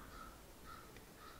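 Crows caw again and again in the distance while bald eagles nearby go after their food, the cries faint against the outdoor background.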